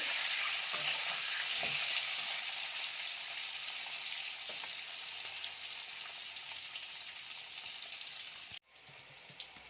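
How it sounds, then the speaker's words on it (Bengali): Boiled eggs fry in hot oil until reddish, making a bright, constant sizzle that fades slightly before a sudden drop, then resumes more quietly. "একটু লাল লাল করে ভেজে নেব।"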